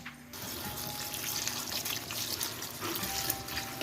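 Store-bought mushrooms are washed by hand in a large bowl of water. Soft sloshing and splashing rise and fall against a steady trickle from a running tap, close by, with no talking.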